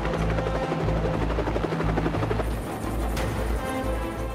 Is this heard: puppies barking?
no